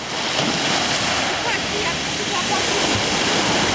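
Sea waves break at Yalta, Crimea, a loud continuous roar of surf rushing close by, mixed with strong wind buffeting the microphone.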